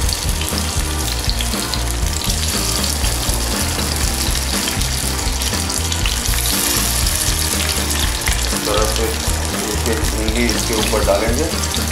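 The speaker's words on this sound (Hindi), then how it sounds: "तेल को ज़्यादा गर्म करेंगे तो भिंडी चिपकेगा, और इसके ऊपर ये भिंडी डाल देंगे हम" Stuffed okra (bharwa bhindi) laid into hot oil in a home kitchen, giving a steady, fairly loud sizzle and crackle that runs continuously, with faint background noise mixed in.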